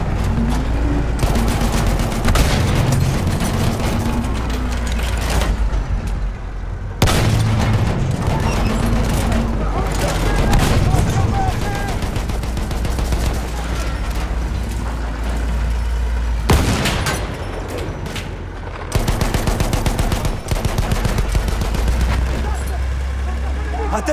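Battlefield 1 conquest battle with sustained enemy machine gun fire, dense rattling bursts mixed with booms and distant gunshots, loud and continuous with brief breaks between volleys.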